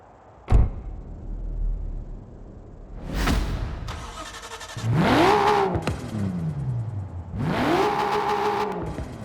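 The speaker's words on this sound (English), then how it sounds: "you guys want to hear that original engine fully upgraded" A 1993 Nissan Skyline GT-R V-Spec in Forza Horizon 4, fully upgraded, revs hard in a few distinct bursts, each engine note climbing then falling, with a sharp click at the start.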